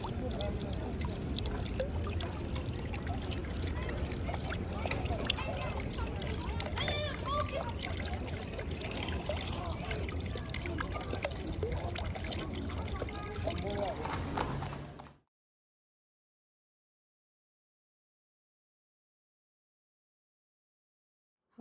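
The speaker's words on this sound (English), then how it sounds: "Everybody loves that good spring water, huh?" Spring water pours and trickles in a dense continuous stream for about fifteen seconds, with voices mixed in, then stops abruptly into silence.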